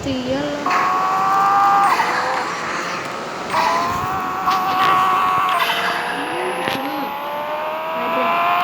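Honda Civic in the video game Pixel Car Racing, engine whine rising and dropping through gear changes with tire squeals, loud and continuous, occasional voice underneath.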